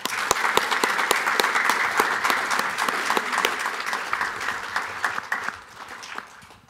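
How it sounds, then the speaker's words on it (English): Audience applause fills a conference hall at the close of an event, dense steady clapping from many hands that holds for several seconds and then thins out and fades near the end. "I think we should all give a big round of applause for our Master of Ceremonies"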